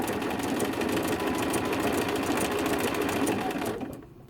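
A sewing machine stitches a quilt with a steady, fast, close mechanical whir and rapid needle rhythm that runs continuously, then winds down and stops near the end, with no talk.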